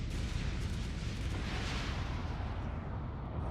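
Torpedoes strike ships in a Homeworld 3 space battle, a dense continuous rumble of booming explosions that stays steady and fairly quiet for the whole stretch.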